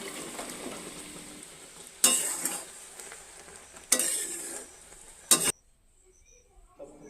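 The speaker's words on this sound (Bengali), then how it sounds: "পরিমাণ মতো বিট লবণ দিয়ে আরও 5 মিনিট ফুটিয়ে নিতে হবে।" Mango pickle simmering in a pan gives a steady sizzle, broken by three louder stirring bursts of spoon against pan, then near-silence as the heat or stirring stops.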